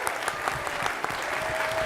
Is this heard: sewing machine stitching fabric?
no